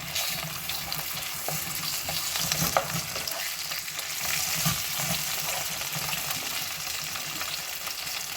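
Ground meat sizzles in a pan over onions that have already fried golden, with a steady frying hiss and a few stirring scrapes and clacks throughout.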